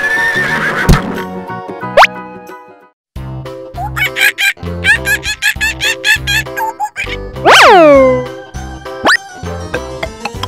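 Horse neighing loudly in a children's animal video, a rising-and-falling whinny near the middle preceded by musical sounds and followed by other animal calls.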